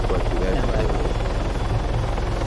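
A helicopter in the video game Arma 3 runs at a steady, loud rotor drone with a dense, churning low rumble throughout, and a radio voice is faintly mixed underneath.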